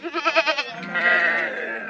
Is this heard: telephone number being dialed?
no